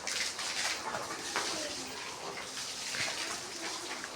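Steady rushing stream of water being poured, continuous and close, with a few faint knocks and no clear speech.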